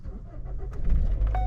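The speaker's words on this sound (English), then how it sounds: "The car started up right away." A car engine cranks and catches quickly, its low rumble swelling midway and then settling into a steady idle close by, with no voices.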